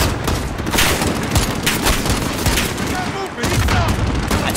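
Dense, loud, continuous gunfire in the Call of Duty: Modern Warfare 2019 campaign, with overlapping automatic bursts and booming shots throughout and barely a pause.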